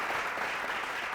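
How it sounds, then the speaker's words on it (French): A TV show studio audience applauds on the stage, a dense steady clatter of many hands through a short burst, with no talk over it. "Merci de les applaudir bien plus fort."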